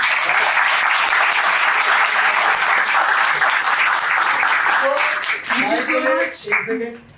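Loud, dense audience applause after a stage play performance, sustained for about five seconds before thinning out as voices begin talking over the last scattered claps.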